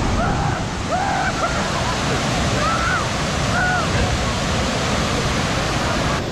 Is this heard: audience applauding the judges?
no